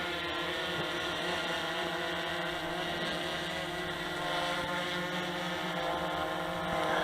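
A DJI Inspire drone lifting off and raising its landing gear gives a steady, close, dense motor whine and rotor drone that holds level the whole time, with no talk.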